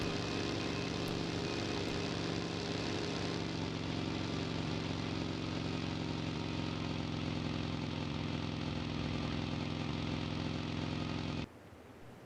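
A vehicle engine drones steadily in PUBG Mobile, a loud, even mid-pitched hum with a faint whine that holds unbroken for about eleven seconds before cutting off abruptly into quiet.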